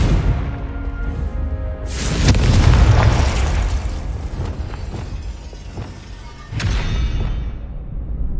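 Confringo fire spells in the video game Hogwarts Legacy set off loud, rumbling fiery explosions: a big blast that swells and lingers, then a second sharp burst a few seconds later, with low game ambience between.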